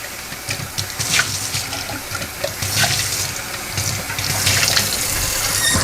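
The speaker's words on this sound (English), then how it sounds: "rinse it just with cold tap water." Cold tap water runs steadily from a faucet over a fine mesh sieve used for rinsing baby brine shrimp, a continuous close splashing hiss with a few brief surges and no talking.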